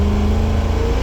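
A 1951 Ford F5 truck with a fuel-injected 460 engine revving hard as a tire spins, a steady loud mid-pitched engine roar filling the short moment with a sustained hum.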